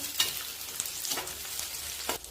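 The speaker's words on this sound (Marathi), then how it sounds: "आता एकदम मंद वांग्याची फोड टाकायच्या. व्यवस्थित असं मिक्स करून घ्यायचं" Brinjal pieces with chopped garlic frying over a low flame for a brinjal chutney, giving a close, steady sizzle and three bright scraping stirs at regular intervals.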